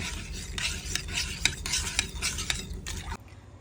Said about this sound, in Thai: ใส่ลงไปในหม้อเลย แล้วคนทุกอย่างให้เข้ากันก่อนนะคะ